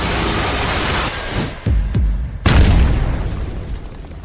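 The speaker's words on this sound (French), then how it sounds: "Mais qui a fait exploser mon moniteur, bordel?" An explosion blows up a monitor on a film set: loud, sharp booming bursts cut through a roaring noise, with a final big blast that rumbles and slowly fades.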